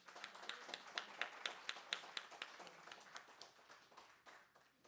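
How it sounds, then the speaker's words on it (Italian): A church congregation at a Christmas Eve service claps together in a steady rhythm of sharp hand claps that gradually thins and fades, sounding somewhat distant and quiet. "Facciamo un applauso."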